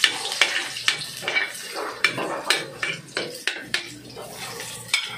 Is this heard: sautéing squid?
yes